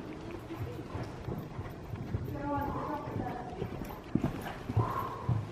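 A pony's hooves thud in a rolling canter rhythm on soft ground during a riding lesson, with a distant voice calling out and some ambient noise.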